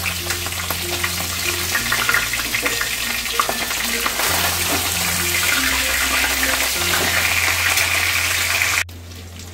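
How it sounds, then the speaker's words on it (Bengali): Oil sizzles loudly and steadily as a fish head fries in a pan for moong dal, a low hum running underneath, until the sound cuts off abruptly near the end. "মাছের মাথাটা ভালো করে ভাজা হয়ে গেছে"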